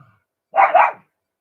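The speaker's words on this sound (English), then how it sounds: "Apologies about the dog, by the way. He's been doing that all night." A single short, sharp dog bark, close and fairly loud, heard alone in an otherwise quiet room during a live football score commentary.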